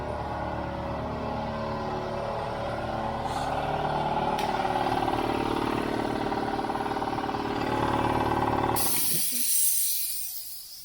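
An air compressor with a broken, frozen pressure switch pushing past 150 psi, its tank leaking air in a steady loud hiss over a low motor drone that cuts off sharply near the end, leaving quiet.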